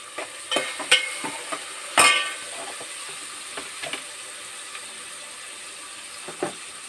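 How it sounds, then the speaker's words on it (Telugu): Food frying in a covered pan while eggplant curry is cooked, a steady soft hiss broken by a few clicks and bumps of a lid or utensil, close by and moderately quiet, with no talking. "కొంచెం మూత పెట్టి వేయించుకుందాం."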